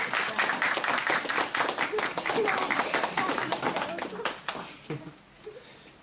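Wedding guests clap for a boy who is looking after the ring box, a burst of fairly close, crisp applause that thins out and stops near the end.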